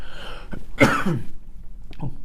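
A single sharp, close cough breaks out during an indoor conversation, followed by a short rough throat sound, with faint speech just before and after.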